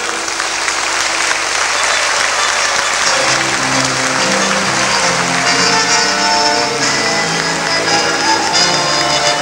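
Warm audience applause at a tango performance as the singer is introduced, sustained and dense from start to finish, with musical tones of the accompaniment starting to rise beneath the clapping partway through.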